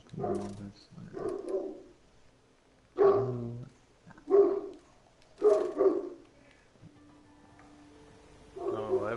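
A dog barks in a series of loud, separate yaps and bow-wows with quiet gaps between them, heard up close, with a faint steady tone in the background.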